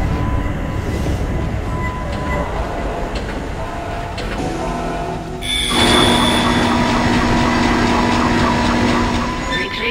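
In the video game Dead Space, a tram car rumbles and hums along its track, with mechanical clunks and a sudden shift to a louder, whining drive midway through.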